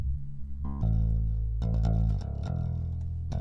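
A dry bass guitar tone in Logic Pro with no channel EQ applied, sustained low notes shifting pitch across a few seconds, played alone at a steady level.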